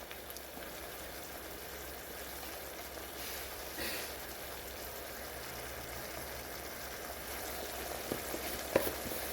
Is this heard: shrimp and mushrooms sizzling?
yes